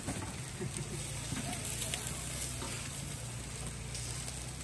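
Steady sizzling and crackling of chicken frying in a pan at a campsite, with a low hum and faint clatter in the background.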